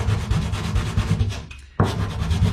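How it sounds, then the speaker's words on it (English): Close, steady back-and-forth rasping of wet sandpaper on a sanding block, rhythmic strokes with a brief pause before the scrubbing resumes. "I'm going to sand."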